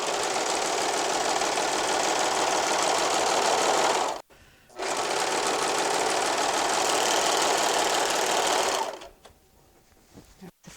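Stitching apron fabric, a serger sewing machine buzzes loud and close in two long, steady runs split by a short pause, then falls quiet with faint handling noise at the end.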